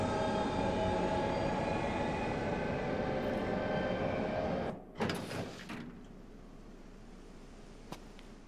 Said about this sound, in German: der Zug ist am Bahnhof Catania